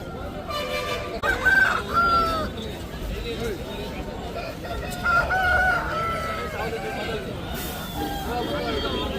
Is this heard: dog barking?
no